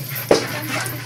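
Dogs at a chicken farm give a single short yelp or bark midway, moderately close, over a faint background hum.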